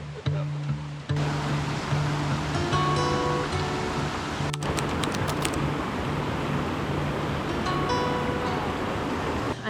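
River water rushes in a steady, broad wash close by, with a few brief knocks and handling noises over the continuous flow.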